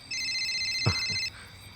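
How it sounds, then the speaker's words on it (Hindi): A mobile phone rings with a bright electronic tone, one sustained burst lasting just over a second, close and clear with a couple of low knocks beneath it. "अरे भैया का फोन आ रहा है।"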